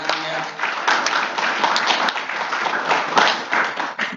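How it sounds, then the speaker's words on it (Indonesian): Audience applause at a motivational seminar in a hotel in Banjarmasin, a dense, steady patter of many hands clapping close by for several seconds, with voices mixed in. "Coba sekali lagi tepuk tangan untuk Anda semua."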